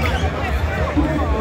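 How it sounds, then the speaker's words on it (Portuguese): Futsal cup final crowd in the stands, a dense, steady babble of many voices with loud, lively chatter throughout and no single voice standing out. "A torcida tá animada ali, ó."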